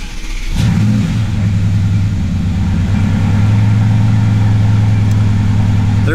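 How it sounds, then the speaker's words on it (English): A car whose ECU has just been flashed with an Alientech Powergate 4 cranks and fires up, then settles into a loud, steady engine drone close by, with no voices. "So we're gonna go ahead and start the car, make sure everything is good and it fires right up."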